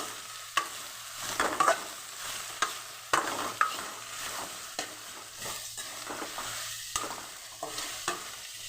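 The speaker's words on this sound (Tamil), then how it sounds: "நம்ம கலக்கி விட்டுட்டே இருக்கணும்" Bitter gourd fries in a pan under constant sizzling while a spoon stirs it, giving sharp scraping knocks every second or so, close and clear with no voices.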